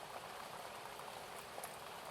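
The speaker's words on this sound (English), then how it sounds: "she starts to hear the soft sound of flowing water" Water flows softly and steadily, a faint, continuous bubbling trickle with gentle patter that stays even throughout.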